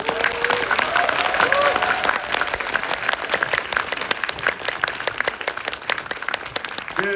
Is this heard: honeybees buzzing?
no